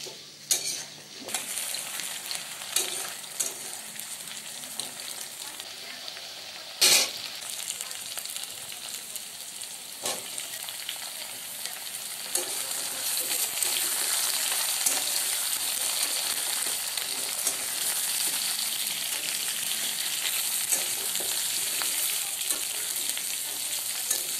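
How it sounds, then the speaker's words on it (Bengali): Potatoes, pumpkin and pointed gourd fry in a pan for a Bengali chhyachra, a continuous sizzle punctuated by utensil clinks and stirring scrapes. "এরপর দিয়ে দেব মিষ্টি কুমড়ো ও পটল দিয়ে আমি হালকাভাবে একটু ভেজে নেব।"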